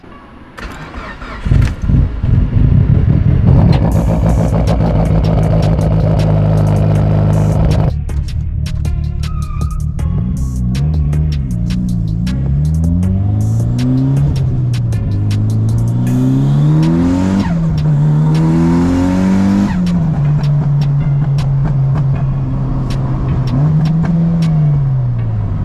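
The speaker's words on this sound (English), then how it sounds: "Get a little cold start for the boys." A Mitsubishi Lancer Evolution VIII in Hyper Blue, fitted with new rims and an Evo IX JDM rear bumper, cold-starts. A crank catches into a loud, high idle, then blips and revs rise and fall several times before settling, close and without talk.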